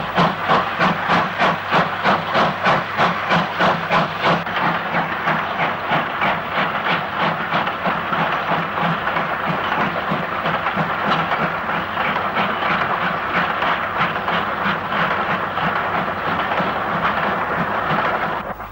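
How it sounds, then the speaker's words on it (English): Steam locomotive 6991 Acton Burnell Hall, a 1960s Great Western Hall class engine, slogs uphill hauling a Class 6 partially fitted freight, with loud, rhythmic exhaust chuffs that quicken and blur into a steady pounding beat over hissing steam, close by. "(6991) Acton Burnell Hall has a Class 6 partially fitted freight pulling steadily up the hill"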